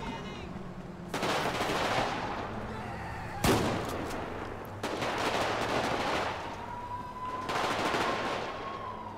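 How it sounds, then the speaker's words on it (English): Bursts of rapid gunfire crackle in several sustained volleys with short pauses between them, punctuated by one sharp, louder single shot. "Shots fired! Shots fired!"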